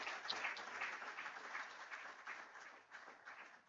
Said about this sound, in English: Can we clap for ourselves for being such good audience?